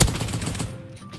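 A single sharp gunshot in a competitive team shooter video game, loud and close, with a quick decaying tail.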